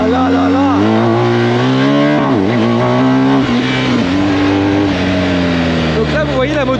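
A BMW R 1250 GS motorcycle pulls hard, its engine note climbing and shifting through repeated rising sweeps as it accelerates, loud and close with wind noise throughout.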